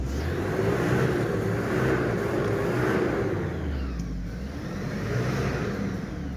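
A Trooper's turbocharger whistles from delayed lubrication, a faint tonal whine riding over the steady mid-pitched rumble of the idling engine nearby, with no talk.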